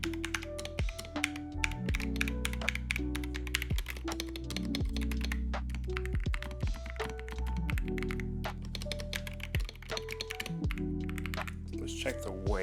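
Fast typing on a Brain Dead Higround Summit 65 keyboard, a dense stream of close, crisp key clacks and thocks, with background music under it.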